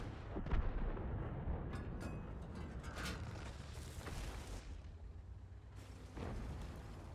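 The Bofors Tornvagn tank gun firing in a video game, giving deep booming cannon blasts with rumbling tails and mechanical clanks in between, set against continuous battle noise.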